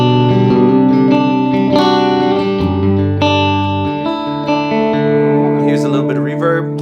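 An electric guitar played through a Tonex amp modeler set to a Vox AC30 tone rings out loud and close, with sustained chords and notes under a touch of drive and effects.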